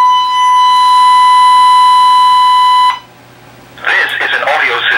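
A home alarm system siren sounds a loud, steady, high electronic tone for about three seconds during a test, then cuts off before a voice comes in.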